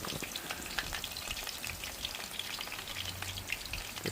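Dried fish frying in hot oil gives a dense, steady crackle and spatter of popping droplets, close and fairly loud, with no voices.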